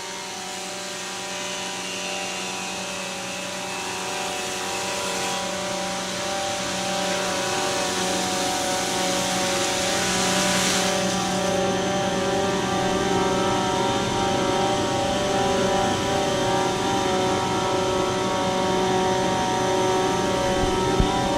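A Weinig Cube Plus four-sided planing machine running, a continuous whirring mechanical drone with tonal hum that builds slightly in loudness midway and holds steady, no speech.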